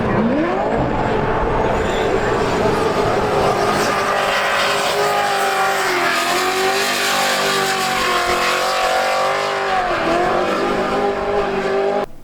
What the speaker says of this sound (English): RX-7 doing the slide.